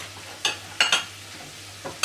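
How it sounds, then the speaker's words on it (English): Cauliflower pieces stirred in melted butter in a pan for a low-carb fish pie, a few short sharp scrapes of a utensil against the pan over a faint background sizzle, close by. "make sure you keep on stirring the cauliflower so it's covered by the butter"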